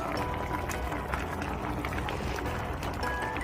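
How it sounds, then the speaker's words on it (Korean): Korean pork bone stew made with aged kimchi and dried radish greens bubbles on the stove in a steady, busy simmer with constant popping and gurgling at close range. "완성작이 지금 보글보글보글 끓고 있습니다."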